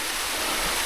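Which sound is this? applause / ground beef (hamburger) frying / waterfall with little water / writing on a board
waterfall with little water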